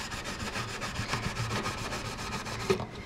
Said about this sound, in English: you're going to take your super fine steel wool and buff both the fretboard and the frets